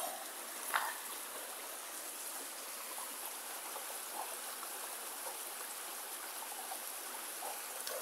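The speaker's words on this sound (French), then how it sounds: "j'ai envie de vous montrer mon joli ruisseau" A small stream flows steadily with a continuous, even trickling rush, close by and alone, with a brief brighter splash near the start and no voices.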